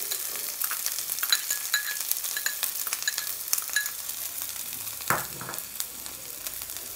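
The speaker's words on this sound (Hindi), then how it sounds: "तेल गरम हो गया, अब मैं इसमें डाल रही हूँ चॉप किया हुआ प्याज।" Chopped onion frying in hot oil in a pan, a steady broad sizzle with scattered crackles and a louder burst of spattering about two-thirds through, with no voices.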